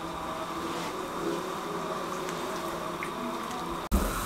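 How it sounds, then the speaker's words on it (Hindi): Sugar syrup for an imli and aloo bukhara sharbat simmers on a medium-low flame, a steady close bubbling and fizzing that runs unbroken, with a brief clunk near the end. "अब हम फ्लेम को मीडियम टू लो कर देंगे और 5 मिनट के लिए इसको छोड़ देंगे पकने के लिए, ताकि एक तार का शीरा तैयार हो जाए"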